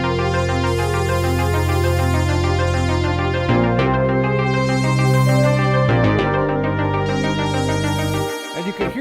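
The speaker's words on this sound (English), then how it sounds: "And with all the bass and the pad." Dark synth track made in Native Instruments Maschine, with a deep sustained bass line and a thick, layered pad carrying a steady tonal melody, loud and continuous with brief chord changes and a short dropout near the end.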